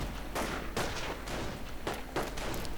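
An MG42 machine gun fires in a video game battle, loud rapid bursts of gunfire repeating in quick succession, with other shots cracking around them.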